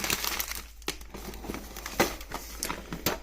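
Nail art foils, including designer and flower foils, being handled and crinkled close up, with soft irregular rustles and sharper crackles in uneven bursts, fairly quiet throughout.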